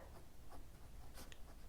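Pen writing on paper at a desk, faint and close: soft scratchy strokes with a few brief ticks of the nib, quiet and without speech.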